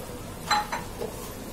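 A utensil stirs salt into marinated chicken in a pan, giving a few quick metallic clinks and scrapes, close and fairly faint over a low background.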